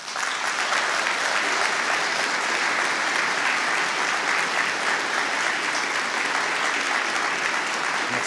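Steady, dense applause from a ceremony audience at a New Year's greetings event, loud and continuous for several seconds with no voices on top.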